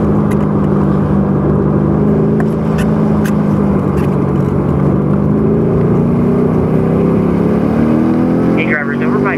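A 617-horsepower race car drives hard on a circuit, its engine drone heard from inside the cabin, steady and loud with shifting pitch as it accelerates, and a brief whine near the end; a voice talks over it.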